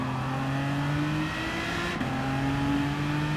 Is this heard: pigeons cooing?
no